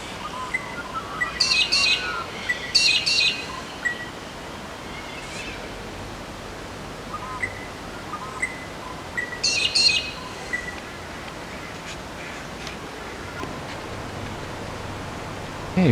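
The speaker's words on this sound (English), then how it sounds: "back at the crows, see what they sound like." Crows calling outdoors, several short harsh caw bursts clustered early and again near the middle, moderately near over a steady wash of background noise, with quieter gaps between.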